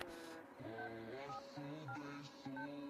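A phone call is dialed: a quick series of distinct electronic tones, one after another, over soft background music, with no talking.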